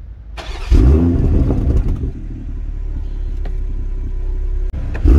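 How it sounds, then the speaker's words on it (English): A car engine cranks and catches with a sudden loud roar, then settles into a heavy rumbling idle with the exhaust blipping and revving close by before a brief cut and another surge. "I'm gonna just get it started up and we'll do some revs for you."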